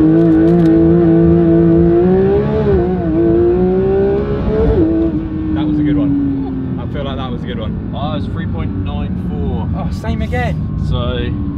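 A Porsche 911 GT3 992 accelerating hard from a standstill, its loud engine climbing steeply through the revs with a brief dip at a gear change, then settling to a lower drone while people talk over it.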